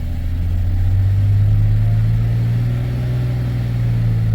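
A Chevrolet Silverado engine stuck at a racing high idle after carburetor cleaner use, a loud steady low drone that barely wavers, heard alone without talk.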